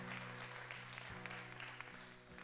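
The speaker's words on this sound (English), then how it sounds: "Y'all give Sarah a round of applause." A church congregation applauds during a Sunday service, a faint wash of clapping over a steady low hum, brief and somewhat distant.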